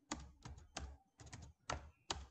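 Typing on a computer keyboard while entering a spreadsheet hyperlink: several quick bursts of close, crisp key clicks in short clusters with brief pauses, no talking.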